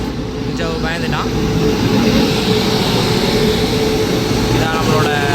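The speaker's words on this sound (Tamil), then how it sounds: "இதான் நம்மளோட ட்ரெயின் வந்துருச்சு." A train pulls into a station in Taiwan, a loud, steady rumble and hiss of the carriages rolling in, with faint squeals and people talking over it.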